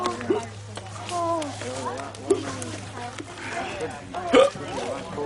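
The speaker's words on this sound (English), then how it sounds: "Oh, now I got the hiccups." Several sharp hiccups from a person at a nighttime Halloween ghost-train get-together, popping out at irregular intervals with a loud one near the end, heard among chatter and speech from others nearby.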